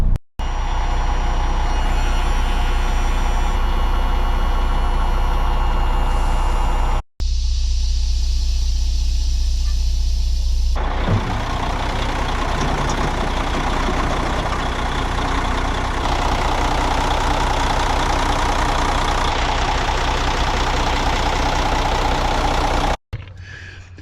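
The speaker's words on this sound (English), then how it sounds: "So we go ahead and turn that on. The legs will come down and then level this thing out." A Mercedes MBE 4000 diesel engine idles in a motorhome with a loud, steady low rumble throughout, while the hydraulic leveling jacks lower with a whining mechanical hum partway through, close by and with no talking.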